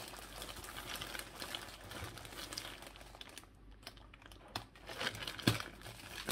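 A large plastic bag inside a package is crinkled and rustled, with close, continuous crackling that swells in irregular bursts and a sharper crunch near the end.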